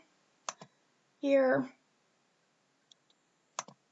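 A computer mouse gives a few sharp, close clicks spaced over several seconds, with a brief spoken word in between.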